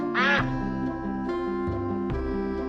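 Duck quacks from a children's counting song, a loud close quack near the start followed by further quacking woven into upbeat music, with no talk.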